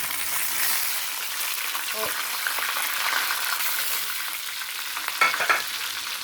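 Green chillies fry in a hot pan with a steady, loud sizzle, broken by a few sharper crackles and spoon scrapes as they are stirred.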